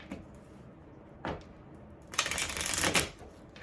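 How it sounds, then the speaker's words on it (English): Tarot cards are riffled and shuffled in two bursts, a short rustle followed by a longer, louder flurry of card flicks, close and with no talking. "Let's get a couple of these before I do one last round of tarot."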